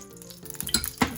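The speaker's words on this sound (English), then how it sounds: "Put a little more bacon fat in." Utensil scraping and clinking in a hot non-stick pan greased with bacon fat, a soft sizzle underneath and a louder clatter near the end, close and brief.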